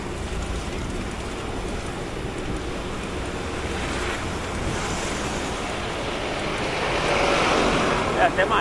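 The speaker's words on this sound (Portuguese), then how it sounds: "Um vento contrário do caramba" Strong headwind buffets the microphone while riding among traffic, a constant low roar swelling louder toward the end, with a brief rattle at the close.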